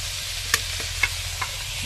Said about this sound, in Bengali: ফুলকপিটা দিয়ে দিলাম ফুলকপিটা একটু ভেজে নেবো